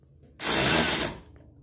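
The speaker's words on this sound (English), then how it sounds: "Keep the drill straight." A power drill runs in one steady, loud, whining burst of about three quarters of a second, boring into wood while a loft is being built, close up with quiet surroundings before and after.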